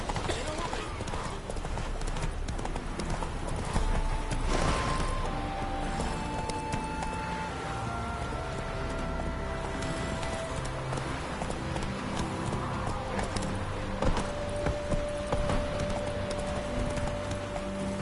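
A horse galloping in a PS4 video game, with rapid, steady clip-clop hoofbeats running throughout under a constant layer of game sound and music tones, and a voice talking over it.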